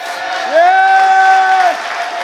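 A congregation at a large worship rally applauds and cheers to acclaim the Lord, with a sustained voiced shout rising over steady crowd noise and clapping.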